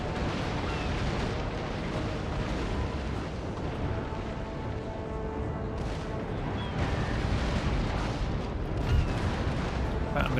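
Dense, continuous cannon fire from warships in Napoleon: Total War rumbles through a naval battle, heavy booms overlapping into a steady roar with a few sharper blasts near the end, while someone talks over it.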